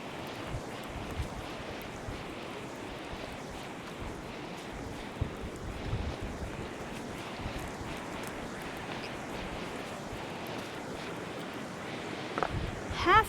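Steady rushing wash of a river flowing close by on a windy day, with gusts buffeting the microphone and a brief louder knock near the end.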